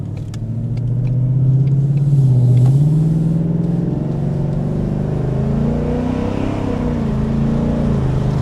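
A car exhaust revs through a classic muffler in track mode, a deep throaty rumble that swells then settles into a steady drone, close and fairly loud with no talking.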